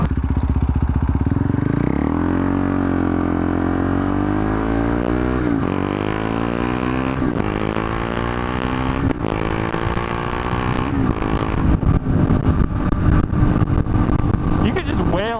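A KTM RC390 motorcycle with a suspected head gasket fault roars steadily while riding, its engine pitch sweeping up and down through gear changes, loud and close with heavy wind buffeting throughout.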